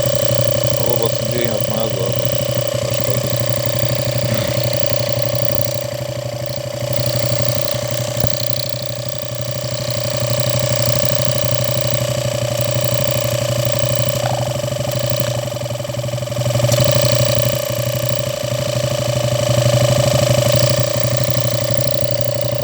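A KB150-25 Cooper motorcycle engine idles steadily nearby with a constant mechanical hum and fine rapid ticking, and a voice speaks briefly early on.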